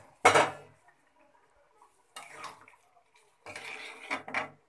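A spoon stirs a soybean, potato and green pea curry in a metal pot, giving three separate bursts of clattering, scraping metal-on-metal knocks, loud and close, with quiet gaps between them.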